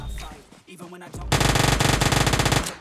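Heavy automatic gunfire in a mobile shooter game: a loud, rapid, continuous burst of evenly spaced shots that starts abruptly and runs for over a second, after a short quieter stretch.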